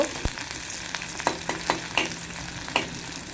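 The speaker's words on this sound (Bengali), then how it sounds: "পেঁয়াজ আর হচ্ছে রসুন তেলের মধ্যে ভালো করে ঢেলে দিয়ে আমি নাস্তার করে নিচ্ছি" Onion and garlic fry in hot oil, giving a steady close sizzle punctuated by sharp clicks of stirring against the pan, with no voices.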